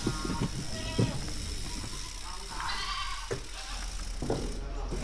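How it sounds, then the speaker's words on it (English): A pack of goats on a mountain ride trail at Tin Ping Shan after rain, bleating a few times close by over steady background noise and wind, with people talking. "It's the goat pack."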